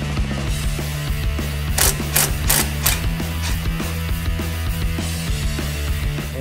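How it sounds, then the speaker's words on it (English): A ratchet with a swivel socket turns the bolts of a drive shaft support bearing, rapid close metallic clicking in quick bursts over a steady mechanical hum, with no talk. "So you're using your swivel socket there."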